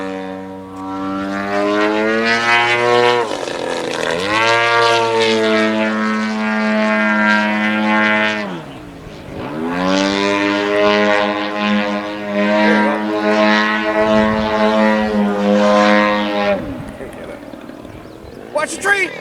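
An Edge 540 aerobatic airplane flies nearby, its engine droning in strong, steady harmonic tones that rise and fall in pitch across two long passes. Voices can be heard under the engine noise.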